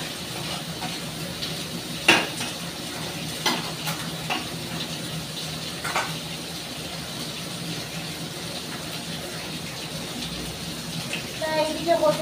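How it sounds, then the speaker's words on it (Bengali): Raw meat is washed by hand in water in a pot in a home kitchen, giving soft continuous sloshing and splashing with a few sharper clanks, while a voice talks. "এবার একটু অত মাংসটাকে না ভালো করে ধুয়ে নেব।"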